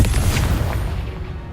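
A Confringo blasting curse in the Hogwarts Legacy video game goes off as a heavy, rumbling boom, loud and close, then fades over about a second and a half with no voices over it.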